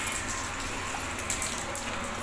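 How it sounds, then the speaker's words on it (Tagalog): Heavy rain pouring steadily in Al Ahsa, Saudi Arabia, a dense continuous wash of falling water with occasional brighter splashes, no voices. "Umulan na sa Saudi."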